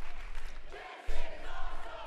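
Wrestling arena crowd at a WWE NXT live event, a loud sustained roar of cheering and shouting with a brief dip before it surges again.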